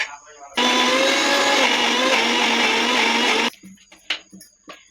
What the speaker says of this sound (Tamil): இப்போ பாதி அளவு பூண்டை மட்டும் நம்ம மிக்ஸி ஜாரில் நல்லா விழுதாக அரைச்சி எடுத்துடுவோம்.